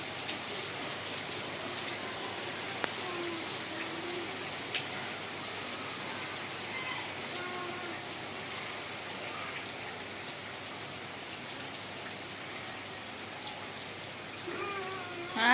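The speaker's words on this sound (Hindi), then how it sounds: "देखो जोरे वर्षा होची" Heavy rain pours down steadily and loudly, a dense continuous hiss of drops pattering on surfaces with no letup across the whole stretch, and a few faint bird chirps are just audible behind it.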